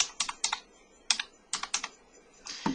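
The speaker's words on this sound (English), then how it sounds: "let's type in the hostess of Tani's party." Keys clatter on a computer keyboard as a name is typed into an order-entry form, a close series of quick clicks in short bursts with brief pauses between.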